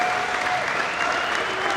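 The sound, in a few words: squash match crowd applauding and cheering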